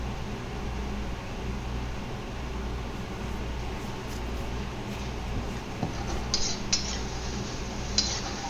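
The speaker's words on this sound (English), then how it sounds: "I'm going to stir it a little bit and then let it do its own work" Beef and green bean stir fry with garlic sauce cooks in a pan, with a steady hiss of frying and occasional light clinks and scrapes of a utensil near the end, heard alone.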